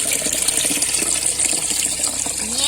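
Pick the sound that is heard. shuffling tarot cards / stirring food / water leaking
water leaking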